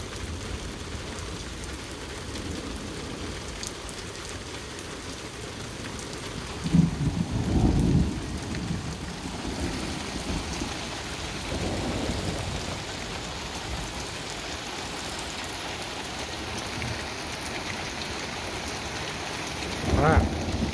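Steady heavy rain pours throughout a thunderstorm, with a couple of low rolling thunder rumbles rising out of the hiss, and no voices.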